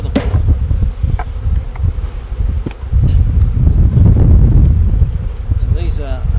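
Honey bees hum in a steady, close swarm of buzzing at an 8-frame wooden Langstroth hive on the verge of swarming, with wind noise brushing the microphone throughout and no talk.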